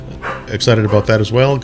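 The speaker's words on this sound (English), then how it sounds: "My apologies for the dog barking in the background." A dog barks in the background, a few short, sharp barks and yips mixed in with someone talking close by.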